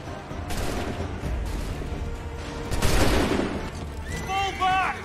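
Musket volleys crack and rumble in a battle in Assassin's Creed III, bursts of massed gunfire rolling over one another with a loud peak midway, while a voice cries out near the end.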